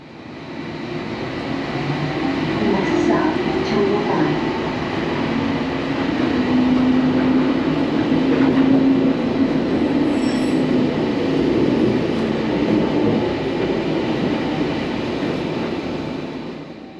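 Rumbling ride aboard the O'Hare airport transit system train, a steady rolling drone with faint wheel squeal, continuous and close throughout.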